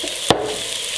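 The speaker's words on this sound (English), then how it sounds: "That's liquid, enough liquid in the onions now that these will have a way to saute" Onions and mushrooms sautéing in a pan with a touch of oil give a steady, close hiss of sizzling, with one brief sharp click early on.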